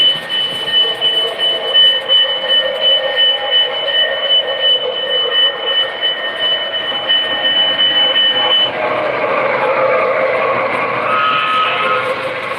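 A Christmas train rumbles along a track steadily with rhythmic clatter and a long high squealing tone from the wheels, loud and close throughout.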